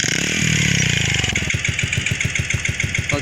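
Motorcycle in the delivery video game Ojol The Game starting up: a rising cranking rev settles into a rhythmic, evenly pulsing idle, close and fairly loud.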